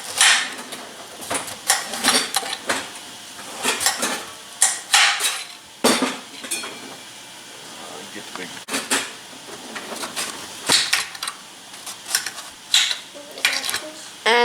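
A knife slicing through a Winter Luxury pie pumpkin on a cutting board, repeated crisp cuts and knocks of the blade at an irregular pace, close and fairly loud, with shuffling handling noise between strokes.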